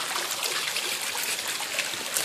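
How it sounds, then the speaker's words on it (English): Water from a small garden pond waterfall, fed from a separate pump line, trickles and splashes steadily at close range, a continuous bright rushing with no voices. "This water feature on the lower portion has its own little waterfall"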